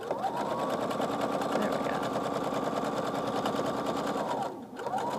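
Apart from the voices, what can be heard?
sewing machine stitching quilt pieces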